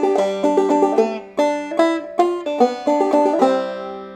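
A minstrel banjo plays a plucked and strummed passage of bright, twangy notes and chords in a steady rhythm, close and clear with no talking.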